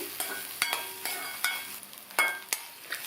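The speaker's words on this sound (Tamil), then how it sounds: "இது கூட 2 டேபிள் ஸ்பூன் தேங்காய் துருவலையும் சேர்த்து நல்லா வதக்கி விட்டுட்டு ஸ்டவ் ஆஃப் பண்ணிடலாம்." Grated coconut and pirandai are sautéed in a pan, with a soft, steady sizzle under repeated sharp scrapes and taps of a spoon against the pan, close and without talk.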